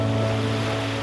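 Ocean waves wash in a steady, loud rush of surf with a faint low hum underneath, and no voices.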